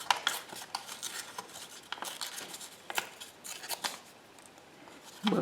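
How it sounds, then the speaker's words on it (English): Tea-dyed paper torn by hand for a junk journal, a run of quick crackling rips close to the microphone, paused briefly near the end. "So let's just tear that."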